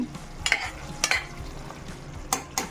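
Lemon pepper chicken cooking in a pan, with a soft low sizzle under several sharp stirring scrapes of a spoon against the pan, close by and with no talking.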